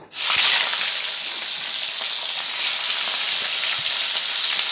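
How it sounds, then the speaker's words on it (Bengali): A hilsa fish head coated with turmeric and salt fries in hot oil, giving a loud, continuous hissing sizzle from the first moment with faint spatters throughout. "এবার এই মাছের মাথার মধ্যে অল্প হলুদের গুঁড়া, নুন দিয়ে দিচ্ছি। মাছটা ভেজে নেব।"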